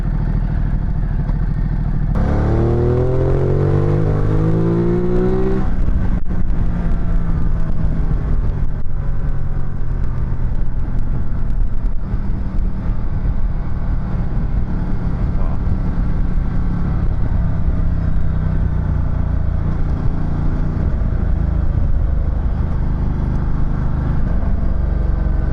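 A Ducati 1200 Multistrada engine under way, with a loud rev rising through gears early on, then a sustained throbbing drone mixed with wind rush as the bike cruises.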